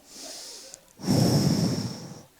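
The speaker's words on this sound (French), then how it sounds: "Et on prend des grandes respirations." A person takes deep breaths while standing with hands on hips and head raised, a soft airy inhale followed by a louder, longer, rushing breath, close and alone without talk.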